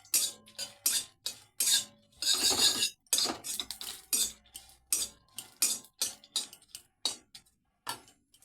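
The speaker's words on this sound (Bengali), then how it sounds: "উঠলে এবার দিয়ে দেব গোটা লঙ্কা একটু নাড়িয়ে চাড়িয়ে দিই" Whole chilies are stirred in hot oil in a pan, with a string of sharp metallic spoon scrapes and taps against the pan in an irregular rhythm and quiet gaps between.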